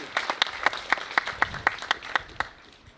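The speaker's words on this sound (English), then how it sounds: "So just a round of applause both for Thaddeus and Pitcher." Audience applause at a grand opening event in Seattle, a moderately loud burst of many hands with distinct sharp claps standing out in a fairly regular rhythm before fading at the end.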